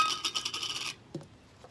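Scissors cutting a traced circle out of paper for a mason jar lid photo frame, heard as a close, dense run of rapid snipping and rasping for about a second, then a single faint snip after a pause.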